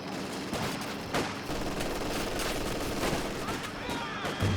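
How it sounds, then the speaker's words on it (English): Machine gun fire rattles in the Company of Heroes 2 strategy game, with bursts and scattered gunshots over a busy battle backdrop while a commentator talks over it. "Machine gun setting up."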